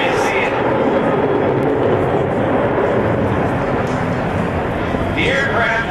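An F/A-18F Super Hornet jet roars loudly and continuously during a load-and-roll flight demonstration at the 2004 Joint Services Open House air show, with a public-address announcer talking over the noise.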